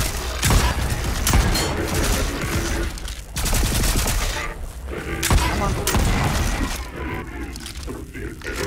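Repeated loud shotgun blasts with booming impacts and clattering debris in the video game Volcanoids, coming as irregular bursts in a busy, noisy battle.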